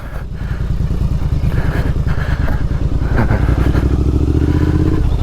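A heavy Triumph Scrambler motorcycle engine rumbles steadily at low revs under engine braking downhill on a dirt byway, a deep continuous drone, joined by occasional clatter and thumps over rough ground.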